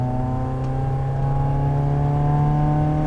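A BMW E30 318iS four-cylinder engine drones steadily under load while driving, a close, even hum with a slight rise in pitch over a few seconds and no voices.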